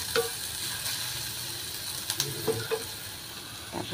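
Food browns in a hot pan with a steady, soft sizzle and a few light stirring clicks, no voices.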